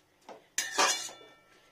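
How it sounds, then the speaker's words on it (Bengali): Metal pots and utensils clink and clatter in a home kitchen as fish curry is moved into another pan, a few close, sharp knocks over a couple of seconds. "এটা অন্য কড়াইয়ে ট্রান্সফার করে নিই।"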